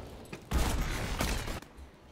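Shotgun blasts boom in a Call of Duty: Advanced Warfare multiplayer match, two loud close bursts in quick succession with a short rattle between, fading afterward.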